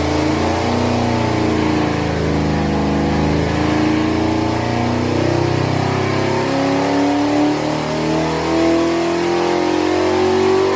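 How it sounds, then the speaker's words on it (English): A 383 stroker V8 with a Holley 750 carburetor, HEI distributor and 1 3/4 inch headers revs hard on a dyno, its loud mid-pitched roar climbing and wavering continuously for several seconds without voices. "So let's take a listen at a dyno run."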